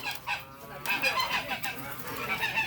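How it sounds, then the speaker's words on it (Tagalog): Several geese honk and cackle close by in a noisy, overlapping chorus, with scattered farmyard clucking mixed in. "Oh, marami ka palang gansa rito."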